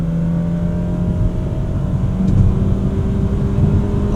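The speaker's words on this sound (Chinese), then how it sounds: "但你只要一上到了 highway 加速" A Mazda CX-60 accelerates on the highway, its engine a steady low hum heard from the cabin that swells slightly in loudness partway through, with road noise underneath.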